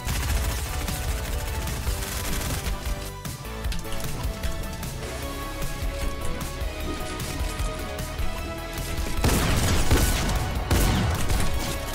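Loud sustained gunfire in a shooter video game, rapid overlapping shots and crashes packed into a thick, steady battle roar that swells toward the end.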